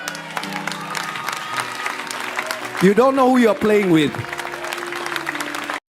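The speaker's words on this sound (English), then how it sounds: "and the church is clapping, y'all" A Christian church congregation claps steadily beneath a preacher's loud, impassioned speaking, with the crowd noise continuing throughout.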